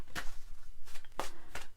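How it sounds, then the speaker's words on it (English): Oracle cards are shuffled in short, crisp riffling bursts, three or four quick rustling strokes spaced apart, close and moderately loud with no talk. "I'm shuffling away in the background."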